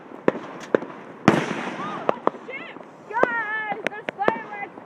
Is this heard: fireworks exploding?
yes